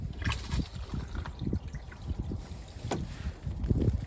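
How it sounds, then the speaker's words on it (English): A portable camping toilet flushes with a pushbutton, giving a short splashy rush and trickle of water, close and fairly quiet, with faint clicks and handling noises. "you can flush whenever you want just by pushing this button here"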